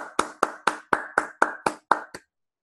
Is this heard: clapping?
yes